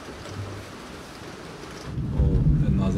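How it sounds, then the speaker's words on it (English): Rain patters steadily, then a low rumble of thunder swells in the second half, growing louder near the end. "another thunderstorm."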